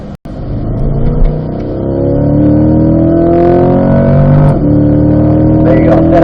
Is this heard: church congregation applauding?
no